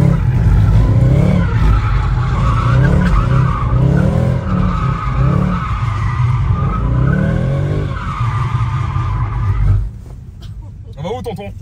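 Tires squeal and skid as a car drifts around a roundabout, a loud sustained screech with engine roar that cuts off near the end, followed by quieter rustling.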